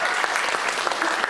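Audience at a Kazakh stand-up comedy show claps steadily and densely throughout, a continuous near wash of hand claps with no pauses.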